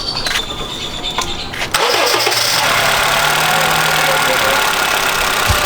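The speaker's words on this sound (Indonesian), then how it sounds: "nih yang paling berasa ini pas lagi starter mesinnya nih guys" A car engine cranks with a few quick starter whirs, then fires and catches into a loud, steady idle that continues close up to the end.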